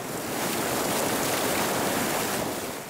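Water gushes from a broken water main in a residential front yard, a loud, continuous rushing roar like a geyser that swells slightly and holds steady throughout.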